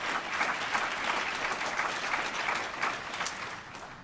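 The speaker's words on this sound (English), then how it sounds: "Yeah, I think we should applaud that." Audience applause at a health talk, steady dense clapping from a crowd that holds for the whole stretch at moderate level and eases slightly at the end.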